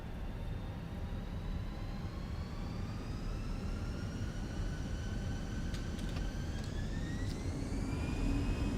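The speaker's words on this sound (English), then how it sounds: "Takeoff. Off we go to Innsbruck." Jet engines of an Airbus A320 spooling up on the takeoff roll from Vienna in Microsoft Flight Simulator: a steady loud roar with rising whining tones that climb gradually, plus faint rattles near the end.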